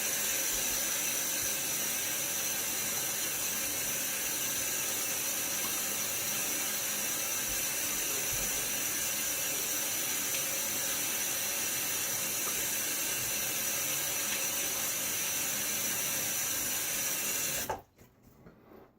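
Tap water running steadily into a sink during a shave rinse, a continuous hissing splash for about eighteen seconds that stops abruptly, leaving faint handling sounds.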